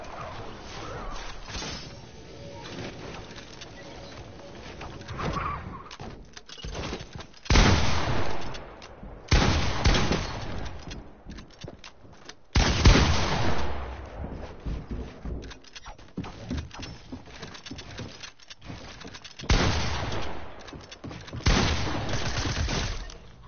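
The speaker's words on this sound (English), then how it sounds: "Shotgun hit break my pyramid." Shotgun fire in a PS4 building game knocking down a built pyramid, with repeated loud blasts and crashing impacts in dense clusters over a steady bed of in-game noise.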